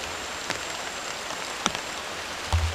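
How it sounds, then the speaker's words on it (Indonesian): Heavy rain patters steadily on a camping tent deep in a forest at night, a dense continuous hiss with a few louder drops striking close by and a low thump near the end. "Ini hujannya makin rapat ya, ngeri teman-teman."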